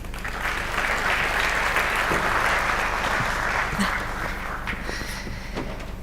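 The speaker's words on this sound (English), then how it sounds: "Please give them a round of applause." Conference audience in Abu Dhabi applauding panelists taking the stage, a sustained, full round of clapping that thins slightly toward the end, with faint shuffling and a few scattered knocks underneath.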